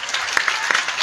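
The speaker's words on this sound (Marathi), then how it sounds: "घे टाळ्या." Audience at a kirtan breaking into a short burst of clapping applause, a brief patter of many hands lasting about a second.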